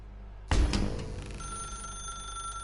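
A telephone rings in The Stanley Parable video game, starting with a sudden loud burst and settling into a sustained ringing tone over a low room hum, close and clear with no voices.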